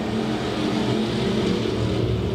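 IMCA Hobby Stock race cars accelerating together off the start of a six-lap heat race at Off Road Speedway, a dense, steady roar of several engines heard from a distance.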